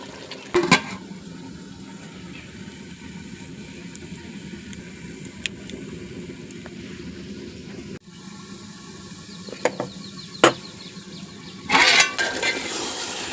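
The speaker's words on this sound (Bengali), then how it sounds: "আমি ভালো করে কষাই নিতেছি" Beef stirred and sautéed in a pot, a steady low sizzle broken by a few sharp clanks of a utensil against the metal.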